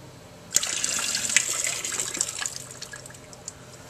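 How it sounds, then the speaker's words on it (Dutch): Water pours and trickles out of the reservoir of a Wallflower plant painting, starting with a sudden splash and then running as a steady, close, moderate stream that slowly thins out. "Eerst gooien we het water uit het schilderij."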